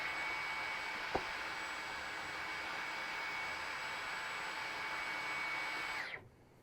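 A Dyson Gen5 cordless stick vacuum in eco mode: a steady, airy motor whir holds at an even level with one brief tap early on, then cuts off abruptly near the end.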